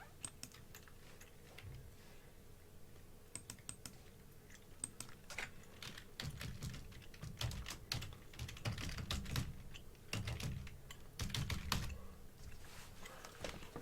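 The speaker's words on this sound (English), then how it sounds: "Type in Google Gemini." Quiet clatter of typing on a computer keyboard, quick irregular key taps in short flurries, close and faint with soft thumps between bursts.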